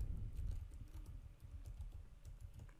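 A password is tapped out on a computer keyboard, a quiet run of soft, irregular key clicks close by over a low background hum, with no talking.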